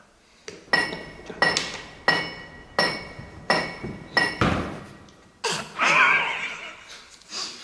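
Repeated metallic clanging strikes, about seven evenly spaced ringing hits with decaying tails, then a brighter shimmering chime burst, from a hammer being upgraded in a digging video game; loud and close with no talk.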